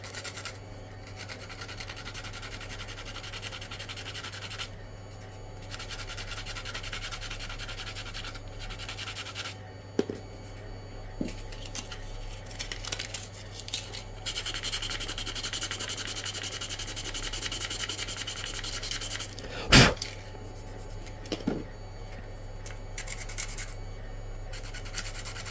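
Sharper-grit sandpaper rubs steadily over a cosplay armour bangle in a continuous scratchy hiss, punctuated by a few sharp knocks and a louder clatter near the middle, heard up close over a low background hum.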